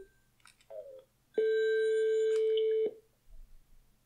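A Teams call ringing through a Poly Sync 20 wireless speakerphone: one sustained electronic tone lasting about a second and a half, preceded by brief chirps and a short blip, in an otherwise quiet room.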